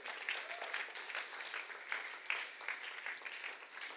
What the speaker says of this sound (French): applaudissons le roi des rois